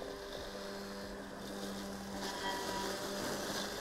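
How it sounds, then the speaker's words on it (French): A small robotic lawn mower, a Mammotion Luba 2 AWD 1000, runs with a steady, quiet motor hum that never changes. "le bruit de cette tondeuse, il est hallucinant."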